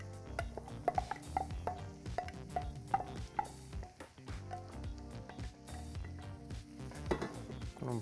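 Onion goes into melted bacon fat in a pan for bacon risotto, with clinking pan and utensil knocks and a light sizzle underneath, close and without talk.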